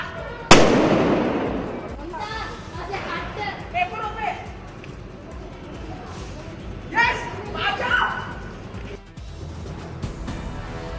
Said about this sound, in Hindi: इस मौके पर आतिशबाजी भी की।